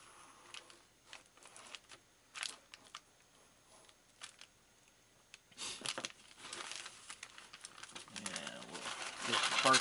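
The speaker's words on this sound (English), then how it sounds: "get my hobby knife and cut open the package here" A hobby knife slices open a plastic parts package for a model build, giving scattered crinkles and scrapes that become denser and louder rustling toward the end, close and without speech.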